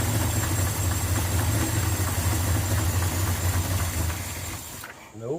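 A 1976 Ford F-150 engine idles after an idle screw adjustment, with a steady, close low rumble and hiss that cuts off abruptly near the end.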